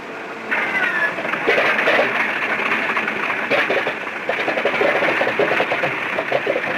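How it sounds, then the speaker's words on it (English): A WWII aircraft's number 1 piston engine catching and settling into a steady idle, a sudden rise into a loud, continuous rough drone with a fast pulsing beat, heard close and alone. "and number 1 is started in the same order."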